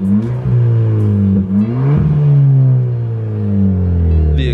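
Car exhaust revving up close, a loud deep engine note that swells and falls in repeated throttle sweeps, ending with a brief higher hiss.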